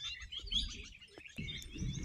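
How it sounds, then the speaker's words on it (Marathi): A flock of parrots in a forest at dusk under rain clouds calls with faint, scattered chirps and tweets, distant and soft against a quiet outdoor background. "इथे सर्व पोपटांचा कळप आहे"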